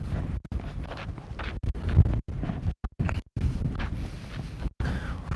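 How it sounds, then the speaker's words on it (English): Heavy wind buffets the microphone in loud, rumbling gusts, broken by a few brief drop-outs. "It is very, very windy."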